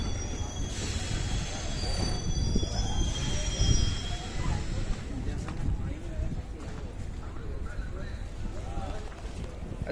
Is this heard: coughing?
no